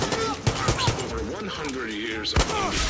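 Video-game gunfire in Far Cry 6, several sharp shots in quick succession, heard under character voices talking.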